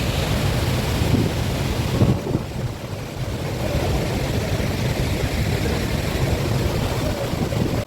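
Heavy, continuous roar of a large waterfall crashing, loud and close, with steady broadband rushing and gusty low rumble throughout.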